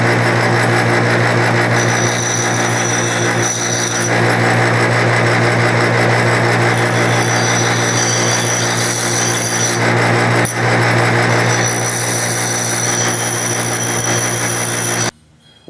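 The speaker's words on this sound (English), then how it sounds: "now I'm just going to deburr the surface here, kind of grind off the little sharp areas" Continuous loud power-tool grinding as a metal surface is deburred during a Magnavox Imperial Micromatic restoration, a steady harsh whine running without pause before stopping abruptly at the end.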